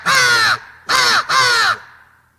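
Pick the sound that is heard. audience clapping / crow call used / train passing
crow call used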